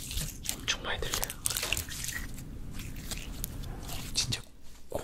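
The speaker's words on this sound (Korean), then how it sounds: "진짜 고무 씹는 소리 나요." Close, intimate chewing of a rubbery rice cake, with soft squishy bites and wet smacking sounds repeating irregularly, interrupted by brief quiet murmuring.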